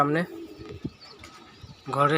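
A pigeon sits nesting on straw inside a house room and gives two bursts of low throaty cooing, one at the start and one at the end, with a quieter stretch of faint room noise in between.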